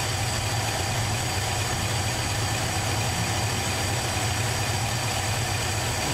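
A 1973 Holden HQ one-tonner's engine idles while warming up, a steady unbroken mechanical rumble with a low hum, constant and fairly loud throughout, with nobody speaking.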